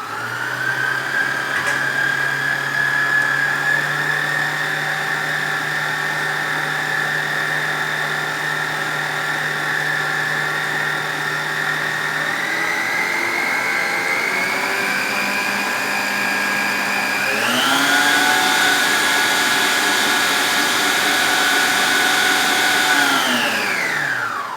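A stand mixer kneads gluten-free heart of palm dough for savory pastries, its motor whirring loudly and steadily, with the pitch gradually rising, stepping up sharply near the end, then winding down.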